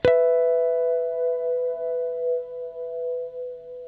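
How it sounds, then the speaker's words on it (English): A single guitar note played through a Walrus Audio Stereo Slöer reverb pedal on its Rise program, with a sharp pluck followed by a long, steady, sustained wash of ambient tone that hangs and gently wavers for several seconds. "This is a swelling cinematic reverb"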